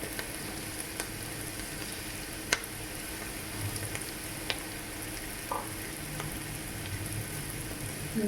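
Paneer cubes frying in a pan, a steady close crackling sizzle running throughout with a few sharp pops and the occasional stir, and no voices.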